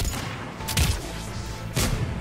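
Gunfire in the video game Mass Effect 3, a few sharp distant shots and bursts cracking over a low ambient rumble, with two louder reports spaced about a second apart.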